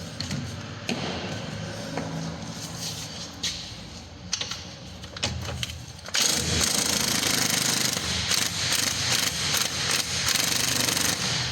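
Ratchet and socket work loosening a control arm nut on a Citroen C4 Cactus, sharp rapid clicking and metallic rattling close by, turning denser and louder in the second half, with no talking.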